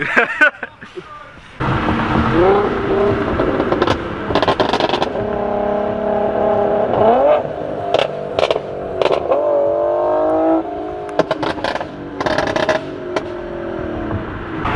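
An Infiniti G37 sedan engine revs repeatedly in rising and falling bursts, loud and close, with people chatting over it.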